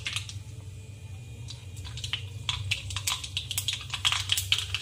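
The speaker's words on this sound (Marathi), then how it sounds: "हे बघा, तेल तापलेलं आहे। मी मोहरी ऍड करत आहे" Mustard seeds spit and crackle in hot oil for a mixed-vegetable dry sabzi, a close run of sharp little pops and sizzles that grows busier toward the end, with no one talking.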